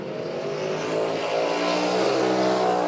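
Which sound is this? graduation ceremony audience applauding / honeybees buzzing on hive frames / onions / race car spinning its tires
race car spinning its tires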